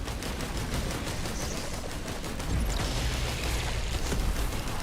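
Grenades thrown by the Commando character explode during a boss fight in Risk of Rain 2, a constant barrage of booms and rapid gunfire, with heavier low blasts swelling toward the end.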